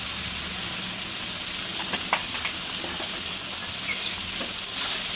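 Spices sizzling in hot oil with Bagar fish, a steady close hiss of frying with a few crackling pops, cooked village style with turmeric, salt and dried chili powder.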